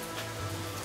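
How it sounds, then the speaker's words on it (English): Steady rain falling on surfaces outside an abandoned love hotel in Japan, a constant dense patter with no distinct drops, heard alone. "I'm sorry about the rain, guys."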